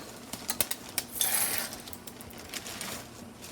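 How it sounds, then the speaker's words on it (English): Dry pasta poured into a pot for macaroni and cheese makes a quick patter of light clinks and rattles followed by a soft rush, fairly quiet. "I'm just going to add my pasta."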